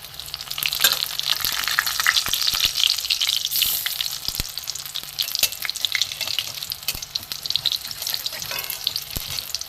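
Drumstick leaf fritters (sojna pata bora) fry in oil over a lowered gas flame, giving a steady, close, continuous sizzle with faint crackles throughout and no talking.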